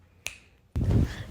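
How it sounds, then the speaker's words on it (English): A single crisp finger snap, close and sharp, followed by a brief rush of room noise. "I'll snap my fingers for her to appear"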